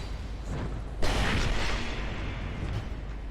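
A fire explosion in Dark Souls II bursts suddenly after a rumbling lead-in, then settles into a loud, sustained roaring wash that fills the rest of the moment, with no voices.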